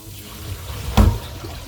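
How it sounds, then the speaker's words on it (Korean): Water gurgles briefly down a clogged kitchen sink drain, a short rushing burst near the middle of a quiet stretch, close by and fairly loud. "물소리 흘러간 소리가 들리잖아요."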